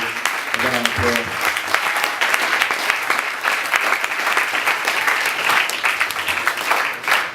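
An audience bursts into sustained, dense applause, many hands clapping steadily and loudly for several seconds, with a brief murmur of voices near the start.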